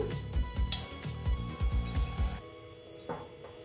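A freshly washed wok is handled and set down on a stove, producing a run of quick metallic knocks and clinks, then a couple of quieter taps after a short pause.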